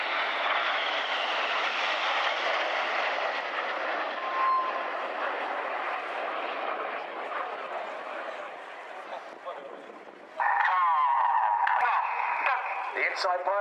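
Red Arrows jets flying past at the RIAT 2016 air show, a sustained broad roar of jet engines that dies away gradually, then a sudden louder, harsher burst as another aircraft passes.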